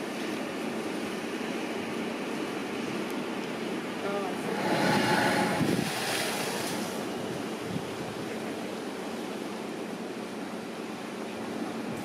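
Ocean surf at a blowhole on the Hawaiian coast makes a steady, distant wash under wind noise, swelling into a louder surge midway before settling back to a continuous roar.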